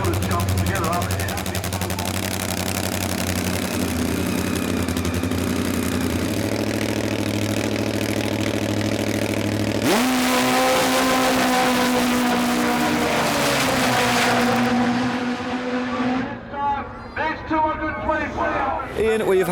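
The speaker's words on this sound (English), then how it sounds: "here's the burnout from BJ" Top fuel drag racing bike doing a burnout at a drag strip: a loud, steady engine roar that jumps to a harsher, higher-revving howl midway, then cuts off into fading rumble.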